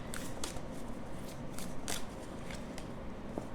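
Quick riffling bursts of tarot cards being shuffled, several short papery flutters spaced irregularly over a steady low background hum.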